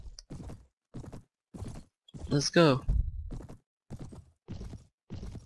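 Horse hooves in the video game Mount and Blade clip-clop in a steady, evenly spaced rhythm, close and moderately loud, while someone talks briefly over them.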